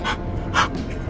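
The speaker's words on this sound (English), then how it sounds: "Sorry if you can hear her panting." A dog named Maggie pants in quick, breathy bursts close to the microphone, with about three louder huffs standing out over low, steady traffic rumble.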